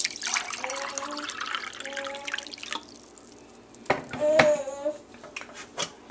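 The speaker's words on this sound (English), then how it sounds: "Pour it in there." A cup of water poured into a pot of brown rice on a kitchen stove, splashing and trickling close by, with a brief louder gush near the end and a voice talking over it.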